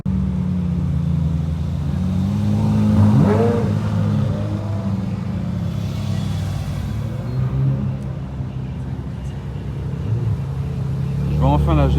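Ferrari cars idle and roll to a stop for a parade at the Spa-Francorchamps circuit, a steady low engine rumble with a brief rev swelling up mid-way, close and continuous, with people talking nearby.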